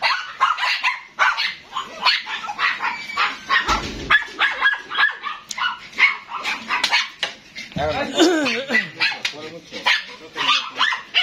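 Several German Shepherd dogs and puppies bark and yip repeatedly close by, with whimpers mixed in and people talking over the commotion.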